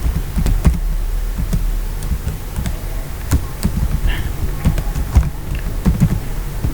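Keys clacking on a computer keyboard as Python code is typed, a run of quick, close taps with brief pauses against a steady low hum.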